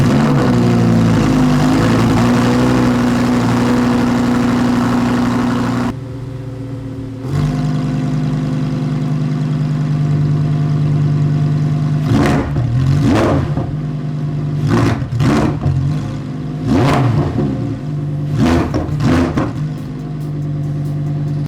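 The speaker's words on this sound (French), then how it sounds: "je vous parlais du son de la voiture au début de la vidéo, je vais tout de suite vous en faire profiter" A yellow Lamborghini Huracan Performante engine drones loudly at a steady pitch, then cuts out and returns with a string of sharp revs, several quick bursts of rising and falling engine roar heard up close.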